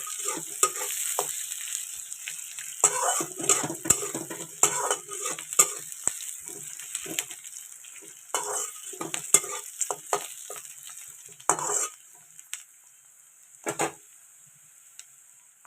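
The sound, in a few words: onions frying in a kadai while being stirred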